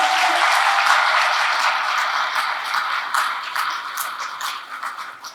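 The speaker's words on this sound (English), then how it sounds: "I think that deserves a huge round of applause, everyone" A large audience at a graduation ceremony at Atlantis The Palm, Dubai, bursts into sustained, dense applause that starts loud and slowly tapers off over several seconds, with no voices on top.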